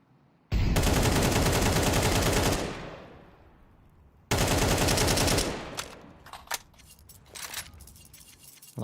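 Two long, dense bursts of rapid automatic gunfire from a competitive online shooter match. The fire is loud and sustained, with a pause between the bursts, and scattered single shots and clinking casings fade out afterward.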